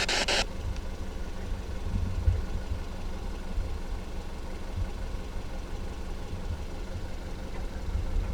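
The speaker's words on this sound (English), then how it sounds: "We do have the car engine running," A car engine idles with a steady low rumble on a dark rural road at night, continuous and moderately quiet with a brief brighter noise at the very start.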